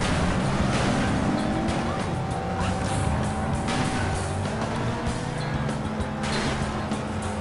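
A race car engine roars steadily with nitro turbo boost in the FlatOut crash-racing video game, loud and continuous with high revving, tire noise and impact clatter throughout.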